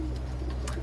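Pigeons for sale in Sialkot coo softly and continuously at close range, with low throaty rumbles under brief faint chirps.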